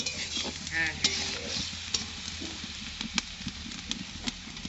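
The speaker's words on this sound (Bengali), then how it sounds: "এখানে আলু ভাজছে আমার দিদি এখন রান্নি।" Potatoes sizzle and crackle in hot oil in a pan with scraping stirs, while faint voices and a distant bleat sound in the background.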